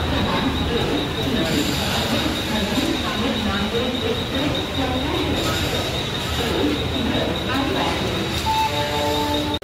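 A passenger train at Karjat station, heard from inside the carriage as a continuous low rumble with faint rail clatter and a high whine, while people talk in the background.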